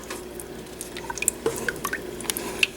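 Hamburger soup stirred in a pot as it heats back toward a boil, a low steady simmer with scattered small liquid clicks, drips and squishy stirring sounds, close and moderately loud, without talking.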